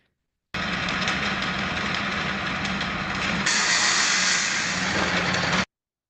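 An AI-generated car engine runs steadily for about five seconds, with a rough, rumbling drone that grows a bit brighter partway through, then cuts off abruptly.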